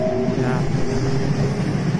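An electric Uchibo Line train pulls out of platform 6 at Soga Station during rush hour, a steady, close, loud rumble of rolling stock with faint tonal whine and no talk.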